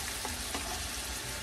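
Ground beef and minced onion fry in a pan with a steady, close crackling sizzle and a couple of soft stirring scrapes, no voices.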